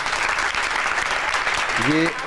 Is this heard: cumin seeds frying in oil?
no